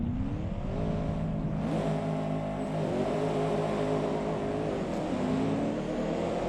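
A race car engine in the Assetto Corsa racing game, on the Villa Bordeu track, revs steadily and climbs through repeated upshifts, its pitch rising and dropping back with each gear change, loud and continuous with no talking.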